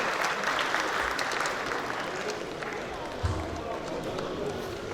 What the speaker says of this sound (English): Please a round of applause for him as he can.